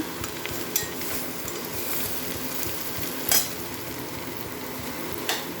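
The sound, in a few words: milk frying and being stirred in a pan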